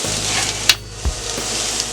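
Potatoes and half a pound of sausage browning in a hot pan for a breakfast burrito, a steady sizzle with scraping stirs and a few clanks of a utensil against the pan, no talking.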